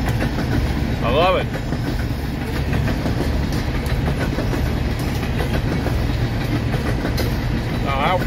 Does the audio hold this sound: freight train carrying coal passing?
yes